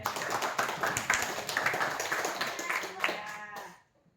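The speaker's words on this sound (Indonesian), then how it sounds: "Tepuk tangan buat Rael." Classroom of children at a Christian religious education lesson claps for a classmate after a prayer, a short ragged burst of applause with scattered voices that fades out near the end.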